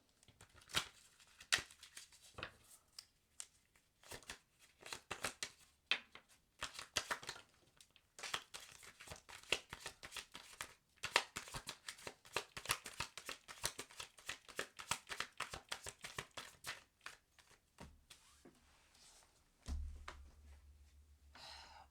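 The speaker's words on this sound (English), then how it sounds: "Let me just do one more shuffle, Lou." Tarot cards are shuffled again and again in quick riffling bursts, close and crisp, with brief pauses between rounds and a low thump near the end.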